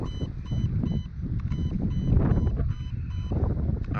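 A Lancer Tactical Interceptor Gen 3 airsoft gun emits a series of short electronic beeps in a regular rhythm, set over a low rumble of wind-buffeted handling noise outdoors.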